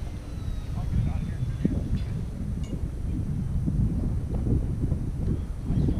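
Gusty wind buffets the microphone at an RC model airfield, a rough low rumble that surges and eases steadily, with faint rustling and a distant model engine whine in the background.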